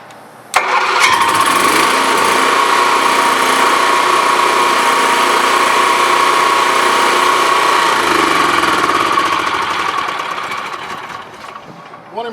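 An onboard generator on a 30ft Hurricane Class A motorhome kicks on abruptly and runs with a loud, steady engine drone and hum, tapering off near the end.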